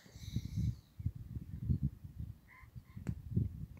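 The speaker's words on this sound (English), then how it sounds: "Sitting listening to the pheasants in the field and the birds doing their thing in spring." Pheasants call from a field in spring, harsh honking squawks arriving in several short bursts amid a low rustling background, with faint higher birdsong drifting in the distance.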